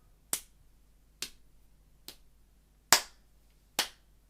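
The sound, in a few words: hand clapping marking a rhythm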